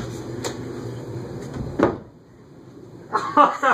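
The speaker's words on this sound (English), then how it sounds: "Open the bedroom door." A bedroom door opens with a short wooden knock and creak near the middle, fairly close, followed by rustling and handling noises, with a voice faintly present.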